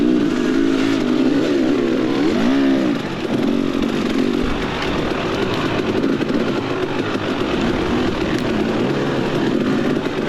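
A dirt bike's engine drones steadily through a warm-up lap of a cross-country motocross race at Moonshine Holler in Cadiz, Kentucky. The engine is close and loud, with continuous revving and brief dips as the rider shifts and throttles.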